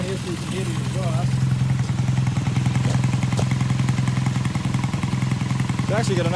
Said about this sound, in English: Bring you around here so you can hear the exhaust.